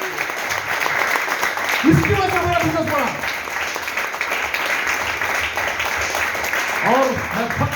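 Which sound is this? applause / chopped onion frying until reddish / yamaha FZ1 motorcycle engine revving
applause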